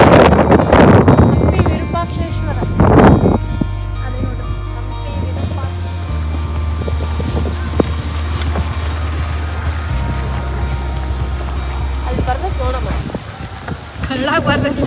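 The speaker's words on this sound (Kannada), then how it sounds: "ಇನ್ನೊಂದು ಕಡೆ ಫುಲ್ ಜೋರು ಗಾಳಿ ಬಿಡ್ತಿತ್ತು" Strong wind near the Veerabhadra temple in Hampi roars as a steady, heavy low rumble buffeting the microphone throughout, with voices talking over it early on.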